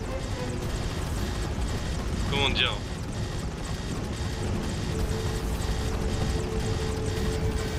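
A video game helicopter keeps up a continuous rotor drone beneath someone talking, with a brief chirping effect partway through.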